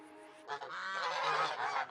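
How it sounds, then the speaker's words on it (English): Farm geese honk in a loud, continuous chorus of overlapping calls, close by and steady throughout. "These are my son's geese."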